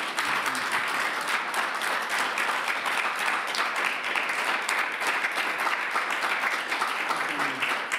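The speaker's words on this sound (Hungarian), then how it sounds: "Egy nagy tapsot szeretnék kérni Koltai Lajosnak." An audience applauds at a cultural talk event at an institute, dense steady clapping from many hands, loud and sustained for the whole stretch.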